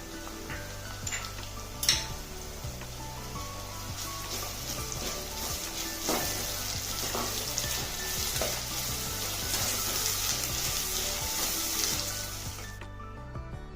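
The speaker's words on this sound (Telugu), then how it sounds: "ఉల్లిపాయలు కొంచెం త్వరగా వేగనిచ్చి నాలుగు స్పూన్లు అల్లం వెల్లుల్లి పేస్ట్ వేసుకొని దాన్ని కూడా వేగనిద్దాం" Ginger garlic paste frying with onions in a pan gives a continuous close sizzle and crackle, with occasional stirring scrapes and clinks, before cutting off abruptly near the end.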